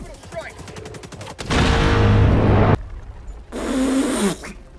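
A rail cannon fires in the Helldivers 2 video game, giving two loud, sustained blasts separated by a short pause.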